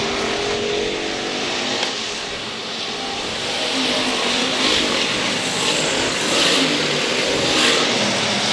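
Race cars at Heart O Texas Speedway roar past in a dense, sustained engine wash, swelling louder toward the end with no voices over it.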